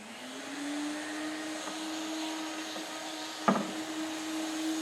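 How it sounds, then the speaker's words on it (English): A Dremel rotary tool with a sandpaper bit hums at a steady high whine while shaping a carved wooden eagle-head cane, with one brief sharp contact near the end. "I'm using the sandpaper Dremel, and I'm using the edge here."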